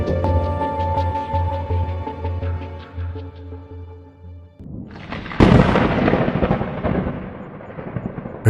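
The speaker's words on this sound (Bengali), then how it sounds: "আকাশ কালো মেঘে ঢাকা, বিদ্যুৎ চমকাচ্ছে।" A night thunderstorm with a low rumbling roll at first, then a sudden loud, close thunder crack that breaks into a broad crashing roar and slowly fades, with no talk.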